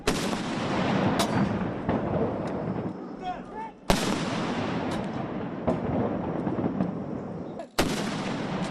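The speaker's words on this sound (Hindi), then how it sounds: "शिंजो आबे को 19 तोपों की सलामी दी गई" Loud cannon blasts from a 19-gun artillery salute at Shinzo Abe's state funeral boom out one after another, each sharp report followed by a rolling echo across an outdoor ceremonial ground.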